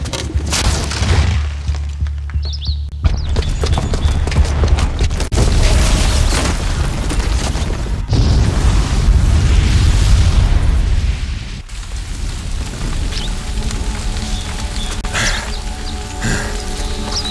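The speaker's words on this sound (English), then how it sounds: "the booby trap on the bomb downstairs is gonna get set off" A loud bomb blast goes off in Horizon Zero Dawn, a deep booming explosion with a heavy rumbling low end and debris-like crackle that rolls on for several seconds before settling into a lingering roar.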